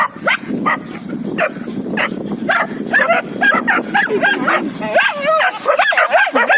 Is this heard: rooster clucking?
no